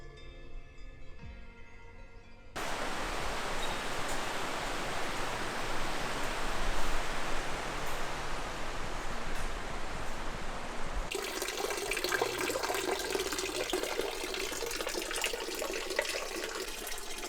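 Steady running water pours from about three seconds on at a forest water resupply point on a Swiss Alpine trek, a broad rushing splash that stays loud and even, shifting slightly in tone near the end.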